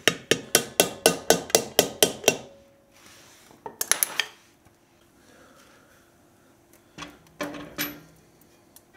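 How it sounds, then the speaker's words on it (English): A hammer gives about nine quick, evenly spaced metallic taps as it seats a seal into an electric-brake trailer hub. A pause follows, then a few scattered, softer knocks, all close and with no talking. "Just some light taps around the outside. We'll get this seal set right in there."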